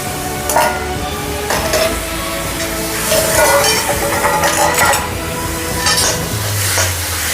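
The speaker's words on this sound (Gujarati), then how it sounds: "હવે એમાં આપણે ખમણેલી દૂધી નાખીશું." Grated bottle gourd fries in hot melted ghee for a quick halwa, making a loud continuous sizzle with bursts of spatula scraping and pan clatter close by.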